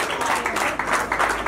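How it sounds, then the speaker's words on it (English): A birthday celebration audience claps briefly, a steady burst of many hands close by, with some crowd murmur mixed in. "Please clap for them"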